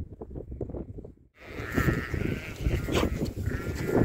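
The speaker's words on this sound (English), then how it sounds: "And we've got the sheep." Sheep bleat repeatedly in an open field, fairly close and loud, with several overlapping calls amid steady outdoor wind and movement noise while walkers cross the pasture.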